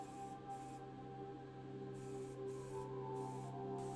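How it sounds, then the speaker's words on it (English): Motip High Gloss Black aerosol spray paint applied to a diecast toy car's base plate, heard as several short hissing bursts over a steady, faint electrical hum. "The base plate then gets a coat of Motip High Gloss Black."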